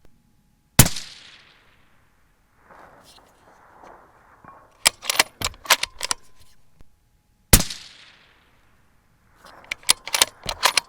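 Two sharp, loud shots from a Tikka T3x Ace Target rifle in .308 Win crack out several seconds apart outdoors, each decaying quickly, with clattering handling noises and faint rustling between them.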